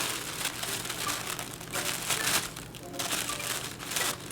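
Thin, fragile tissue-paper sewing pattern crinkles and rustles in soft, uneven bursts close by, light and delicate handling throughout.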